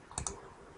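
A mouse button clicking on a name in a software list selector, two quick close clicks, soft and near, alone with no talk.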